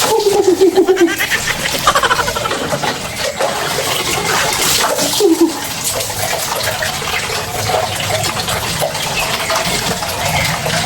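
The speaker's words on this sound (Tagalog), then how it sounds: "Buhos na tayo ng tubig." Water splashes and gushes in repeated pours of cold water in an open-air shower, a steady wet rush close by, while a voice speaks over it at times.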